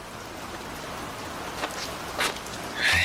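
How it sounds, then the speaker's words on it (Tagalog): Heavy rain falling as a steady, dense hiss throughout, loud and close, with a few brief splashy bursts. "sa napakalakas na ulan na yan"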